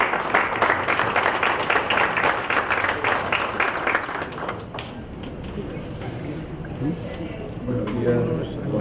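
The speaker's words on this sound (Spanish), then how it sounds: "Vamos a recibirlo nuevamente con fuertes aplausos" An audience at an official Peruvian intercultural bilingual education event claps in a dense burst of applause that fades away, and a voice speaks over a microphone as it ends.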